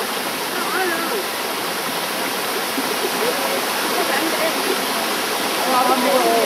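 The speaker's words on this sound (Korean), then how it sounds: "개울 따라서 가는데 아직도 물이 많이 흐르고" A mountain stream flowing with plenty of water beside a hiking trail toward Jueokbong peak in Inje makes a loud, continuous rushing roar close by, with a voice faintly heard beneath it.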